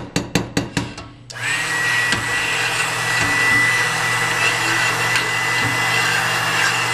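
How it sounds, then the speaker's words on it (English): A stick blender whirs continuously through soap batter after a few sharp taps at the start, a steady loud motor hum with a bright high whine held close to the microphone. "now we're gonna add the stick blender to it and get some real good mixing going"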